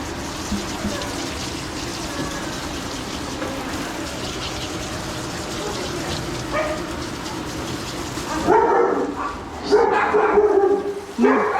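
Several dogs bark and yip inside a dog grooming salon, with the loudest burst of barking near the end over running water and steady background noise.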